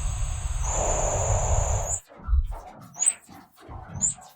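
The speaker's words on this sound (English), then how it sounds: "It's like a spectral filter gate reverb thing." A processed, reverberant wash of filtered noise that suddenly gates off, followed by choppy, stuttering bursts of filtered sound with sharp cutoffs.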